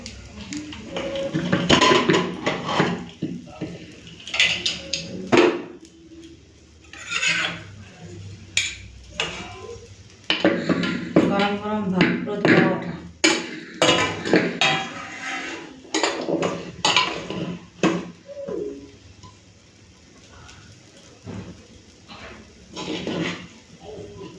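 Plates, pots and cutlery clink and knock while rice is served, irregular close taps and scrapes in bursts, with brief quiet gaps between the clatter.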